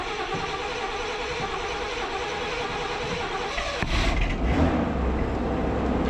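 A Toyota FJ40 Land Cruiser engine cranks quietly, then catches near the middle and settles into a louder, steady rough running rumble close by.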